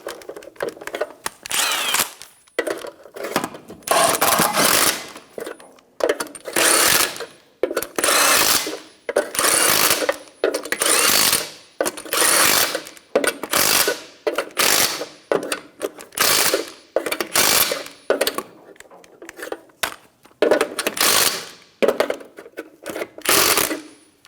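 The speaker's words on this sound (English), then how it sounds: "Snug down the lug nuts." Lug nuts on a 2005-2010 Toyota Tacoma front wheel being snugged down with a power tool: a long run of loud, rapid mechanical bursts in quick succession, with short gaps between them and no talking.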